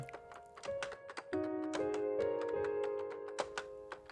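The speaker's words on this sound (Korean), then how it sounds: "홀로 앉아 키보드 두드리는 소리만 흐를 뿐입니다" Quick, irregular computer keyboard taps clatter close by in a quiet study, with a sustained musical tone playing softly underneath.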